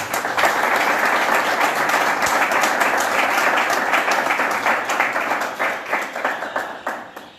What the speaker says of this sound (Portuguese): Acolhamo-lo em nosso meio com uma calorosa salva de palmas